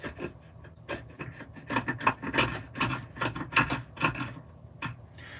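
The end of a hammer scrapes at something in a shed, giving repeated rough rasping strokes in an uneven rhythm, close and fairly loud, with no talk.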